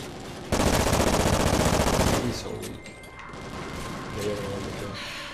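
Rapid automatic gunfire bursts loudly for about two seconds in a first-person shooter gun game match, followed by quieter mechanical clatter and game effects.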